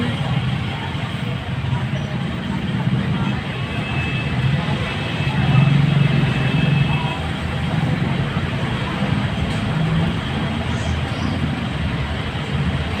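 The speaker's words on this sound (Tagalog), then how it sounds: "traffic po ngayon" Road traffic with passing cars and trucks makes a steady, dense rumble of engines and tires that swells slightly midway and carries on throughout.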